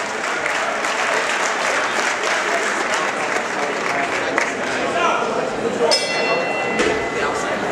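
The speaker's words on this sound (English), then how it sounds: "we have a round of applause for all the work she does putting this on." A crowd applauds steadily at an amateur boxing event in a gym, a dense, even wash of clapping lasting throughout, with faint voices and a brief metallic ring near the end.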